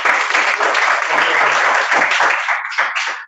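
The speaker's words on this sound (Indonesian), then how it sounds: "Tepuk tangan dulu buat Gus Yuda." A classroom breaks into loud, close applause, many hands clapping in a dense burst that holds steady before thinning into a few scattered claps and stopping.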